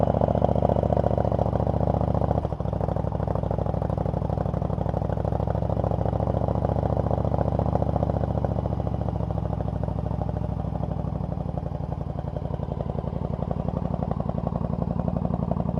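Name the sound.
1999 Yamaha V Star 1100 Custom motorcycle engine idling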